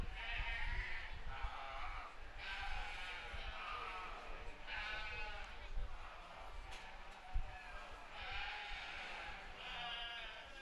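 Sheep bleat repeatedly at a county fair show ring, several drawn-out calls rising over a murmuring crowd and an announcer's voice over the public address.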